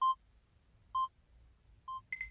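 Three evenly spaced single telephone keypad tones ring out clearly over a faint low rumble, followed by a brief higher beep at the end, as a phone number is dialed to call a friend.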